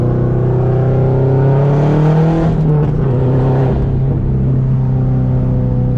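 The engine of a 2004 Subaru WRX STI with a stock block, making around 400 hp, roars loudly under load and then blips and drops in pitch as the driver downshifts, all up close.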